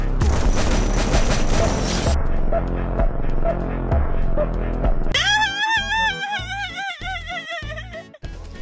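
Rapid gunfire from the Free Fire video game pounds in fast bursts over game audio for about five seconds, then gives way to a pulsing electronic tone sequence.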